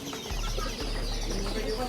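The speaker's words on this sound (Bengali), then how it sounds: "এটা পুরোটা হচ্ছে গিয়ে পাখি আর বাচ্চা মুরগি এগুলা।" Chicks and chickens at a market in Al Wakra, Souq Waqif, chirp and cluck amid a busy crowd, with a steady low hum and people talking nearby.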